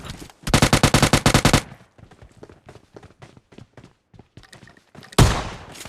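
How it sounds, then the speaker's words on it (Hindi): Shotgun gunfire in PUBG Mobile Lite: a loud, rapid string of shots, then sparse faint game noises and one more sharp, close blast near the end. "अब यार यहाँ पे इसके दूसरे टीममेट को भी मैं शॉटगन से निपटा देता हूँ।"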